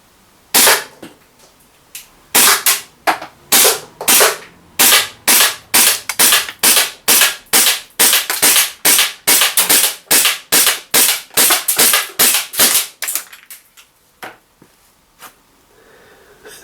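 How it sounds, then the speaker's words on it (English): Secutor Gladius Magna air pistol firing a long run of test shots, sharp loud cracks repeated about twice per second, some in quick pairs, close and dry with no talk. "Let's test the first shot, see where it's landing."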